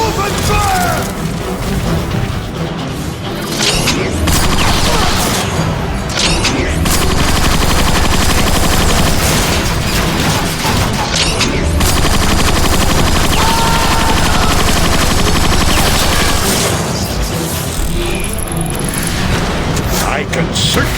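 Sustained gunfire from Transformers: Fall of Cybertron, with dense rapid bursts and booming blasts over a continuous loud battle mix, while voices speak over the action.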